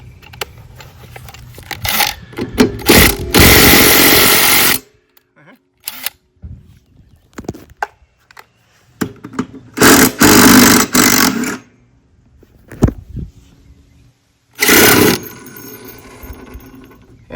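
Impact driver loosening the 17 mm blade bolt on an Echo lawnmower: several loud rattling bursts up close, separated by quiet stretches and small handling clicks.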